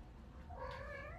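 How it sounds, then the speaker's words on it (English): A pet cat lets out a single short rising meow, close but fairly soft, over a quiet indoor background with no talk. "This is my cat, Three Clicks."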